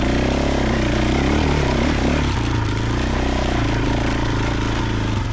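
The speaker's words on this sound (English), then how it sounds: "Back on the engine braking monstrosity." Triumph TF450E motorcycle engine braking on the road, a loud steady drone with wind rush that holds continuously throughout, the engine note shifting slightly as speed falls.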